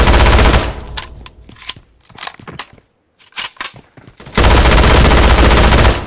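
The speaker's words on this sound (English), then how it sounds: "shotgun मार" Rapid automatic gunfire in PUBG Mobile, loud dense bursts at the start and end with scattered sharp shots between.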